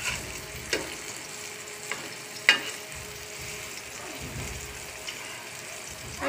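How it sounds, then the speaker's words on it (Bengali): Eggplant slices fry in a pan with a soft, steady sizzle, punctuated by a few sharp clicks and taps of a utensil, heard close and fairly quiet. "তো এখন বেগুন ভেজে নিচ্ছি।"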